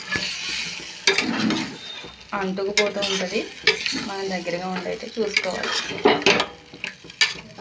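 Brinjal masala curry stirred in a hot pan, repeated scraping and clinking of a spoon against metal over a soft sizzle, with someone talking throughout.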